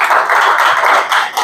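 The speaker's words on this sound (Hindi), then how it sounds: "जोरदार तालियां" A crowd gives a short, vigorous burst of clapping at a pigeon racing club prize distribution, the dense hand claps loud and close for just over a second.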